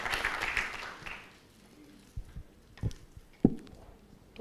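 A graduation audience in Kampala, Uganda claps briefly and fairly softly for about a second before the applause fades out, leaving scattered faint knocks and thumps in a quiet hall.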